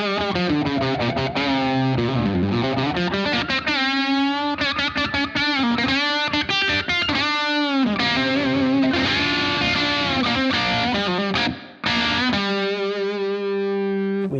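Electric guitar played through a Blackstar St James EL34 valve amp on a slightly tweaked custom preset with reverb, heavily distorted, with sustained chords and melodic runs, loud and continuous with a brief dropout near the end.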